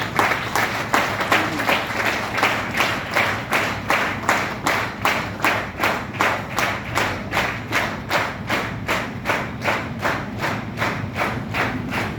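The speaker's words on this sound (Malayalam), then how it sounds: "കൈയടി പോലെ" A group claps together in a steady rhythm, about two beats per second, sustained and fairly loud for the whole stretch.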